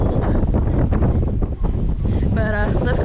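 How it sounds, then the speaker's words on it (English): Strong wind buffets the microphone in a steady, loud roar during a bike ride on Castaway Cay island, with a brief lull partway through and muffled talk underneath. "it's very windy"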